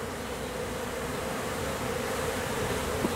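Honey bees that have just swarmed into a new hive produce a dense, continuous buzzing drone, steady and fairly close, with no voices over it.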